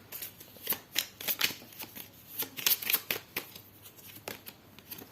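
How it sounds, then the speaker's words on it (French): Tarot cards being shuffled and dealt out onto a surface, with a steady run of crisp, close flicks and slaps of card stock, fairly quiet and without speech. "Ici, je vais mettre 2 cartes du côté sentimental"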